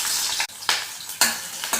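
Chopped onions sautéing in hot oil with whole black cardamom and cinnamon for an egg gravy, a steady close sizzle broken by bursts of stirring scrapes in the pan.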